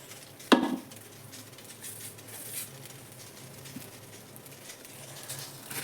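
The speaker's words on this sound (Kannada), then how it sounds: "ಈ ನೋಡ್ರಿ ಬೆಂಡೆಕಾಯಿ ಹುರ್ಕೊಂತನು ಬೆಂಡೆಕಾಯಿ ಪಲ್ಯ ಮಾಡ್ತೀನಿ ಹುರಿದು" Okra frying in a little oil in a pan, with a sharp utensil clank against the pan near the start, then a soft, steady sizzle and faint stirring.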